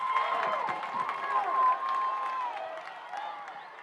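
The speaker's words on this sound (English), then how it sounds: "Crowd here trying to make some noise." High school football crowd at a Wayne Valley versus Notre Dame game roars and cheers during a fourth-and-two play near the goal line, a steady wash of distant voices with whistling tones and scattered claps.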